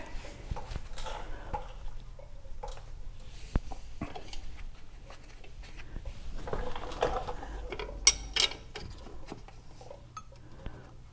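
A ratcheting wrench works the nuts on a wheel bearing assembly of a 1996 Toyota Tacoma, giving scattered metallic clicks and clinks, close and moderately loud, with no talk.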